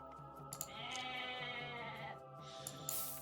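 Goats bleat in the Age of Mythology video game, several drawn-out bleats overlapping one another at moderate level with short clicks from game effects, with no talk over them.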